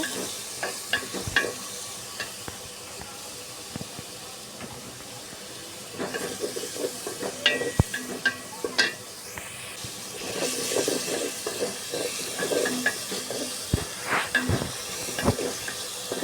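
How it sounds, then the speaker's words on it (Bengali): Onion, garlic and ginger paste fries in hot oil as chicken curry gets under way, a steady low sizzle broken by sharp scraping and clanking from a spatula stirring the pan, with no talking. "ভালো করে ভাজতে হবে যেন পেঁয়াজ রসুনগুলো নরম হয়ে যায়।"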